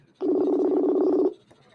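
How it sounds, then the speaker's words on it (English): A telephone rings with a single sustained electronic tone, steady and moderately loud, lasting about a second before cutting off into quiet. "Can you guys hear the phone ringing?"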